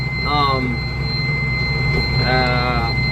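New mixer tractor on a dairy farm, its engine running as a steady loud drone with a constant high whine from the cab, while someone talks over it in brief bursts.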